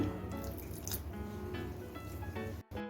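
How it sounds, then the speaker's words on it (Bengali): Water is added to flour while kneading a dough for a fried sweet, making soft close drips and wet squishing sounds throughout, with a steady background hum and a brief cutout near the end. "আমি আরেকটু জল দিয়ে দিচ্ছি"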